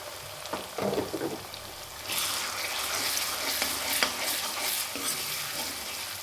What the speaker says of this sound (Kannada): ಇವಾಗ ನೋಡಿರಿ ಈರುಳ್ಳಿ ಫ್ರೈ ಆಗೈತೆ